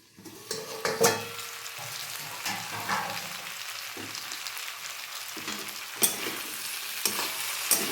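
Drumstick and potato curry with a pinch of turmeric fries in oil, giving a steady close sizzle. Sharp clinks and scrapes from stirring cut through it now and then, with louder knocks near the start and again toward the end.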